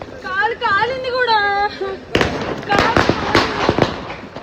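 A voice speaks briefly, then a rapid series of sharp Diwali firecracker bursts crackles and pops nearby, loud and irregular.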